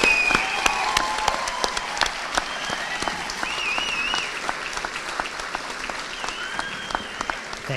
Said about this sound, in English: this beautiful group deserves one more round of applause before they sit down